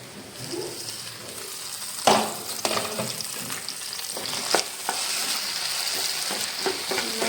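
A potato and egg dish frying in a pan is stirred, with a steady crackling sizzle, occasional louder scrapes and clinks of the spoon against the pan, close and alone with no talk.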